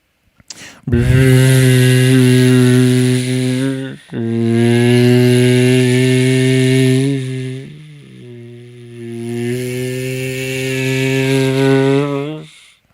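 A voice imitates a lawn mower engine with a loud, sustained buzzing drone that runs for about twelve seconds, broken by two short breaths. The pitch dips and wavers like a motor straining, then picks up again.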